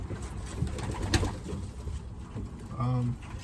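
Racing pigeon cooing close by, a short throaty coo near the end that follows someone speaking over the bird.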